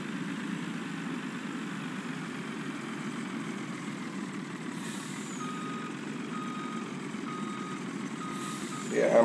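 A truck idles with a steady low engine drone in Farming Simulator 19, while faint evenly spaced reversing beeps repeat in the second half before a brief louder surge at the end.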